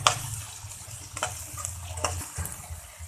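Chopped tomatoes frying in a pan for a spicy capsicum dish, giving a steady low sizzle with occasional stirring scrapes and clicks, close and fairly quiet, with no talking.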